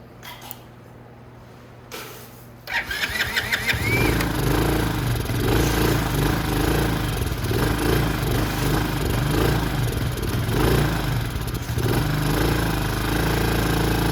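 A cold Venom X15 super pocket bike with the choke on starts after a quiet moment, its small engine catching with a burst and settling into a loud, steady, buzzing idle close by.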